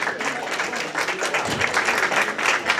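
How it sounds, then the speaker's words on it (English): Audience applause at a startup venture day panel in Singapore, welcoming a company founder to the stage; a steady, dense burst of clapping from a crowd indoors, moderately loud and continuous throughout. "let's give him a round of applause"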